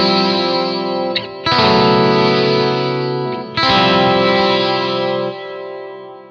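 A sustained, heavily processed instrumental tone through a rack effects unit, with chorus and reverberant wash, briefly cut twice, then fading out in a lingering tail.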